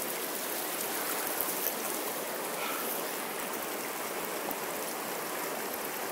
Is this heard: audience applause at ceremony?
no